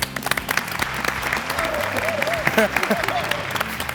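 A studio audience on a Macedonian TV game show breaks into applause, a dense, steady patter of many hands clapping at close range, with a host's voice and scattered crowd vocalizations mixed in.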